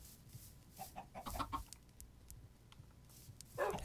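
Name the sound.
chickens clucking in the video game Minecraft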